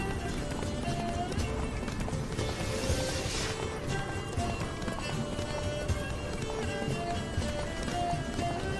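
Roach, Geralt's horse in The Witcher 3, gallops with steady hoofbeats under dense game music and ambience, the footfalls running continuously at moderate loudness.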